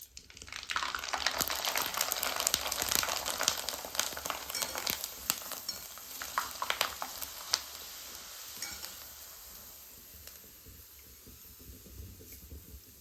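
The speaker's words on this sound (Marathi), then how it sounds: "आता कुरडई तळून घेणार आहे" Kurdai, wheat fryums, fry in very hot oil with a dense crackling sizzle that is loudest early and fades gradually toward the end, heard alone with no talking.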